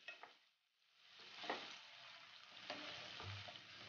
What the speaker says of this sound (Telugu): ముందుగా కట్ చేసుకున్న ఉల్లిపాయలని, పచ్చిమిరపకాయలని యాడ్ చేసి బాగా ఫ్రై అయ్యే వరకు వేయించుకోవాలి.